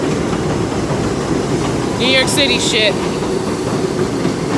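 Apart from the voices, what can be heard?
train passing by in New York City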